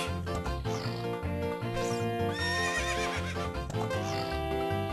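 Epona the horse in The Legend of Zelda: Ocarina of Time gives repeated loud whinnies with the game's background music, alone with no talking.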